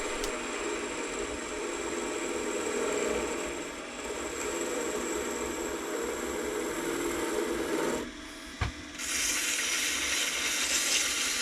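Poplar wood spins on a lathe under a skew chisel, giving a steady hissing, scraping cut that continues throughout with a brief dip and a soft knock partway through.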